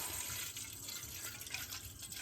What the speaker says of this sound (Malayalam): ലേശം വെള്ളം പിടിക്കട്ടാണ്